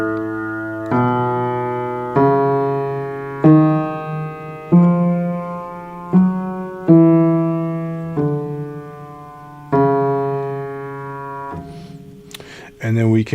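A Bach chorale's bass line sounds alone as a sequence of sustained low notes, each held for a second or two with clean attacks, close and clear, followed briefly by a short noisy sound at the end.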